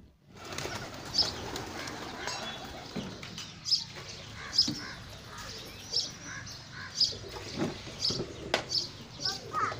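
Baby pigeons after being given water, soft repeated cooing and chirping calls at an uneven, quickening pace, close by, with someone talking over them throughout.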